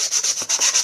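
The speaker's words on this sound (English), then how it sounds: "and you can sand your paper." A small nail sanding block rubs back and forth across dry watercolor paper in quick rasping strokes, close and fairly loud, with about six or seven scratchy passes in a rapid even rhythm and no speech.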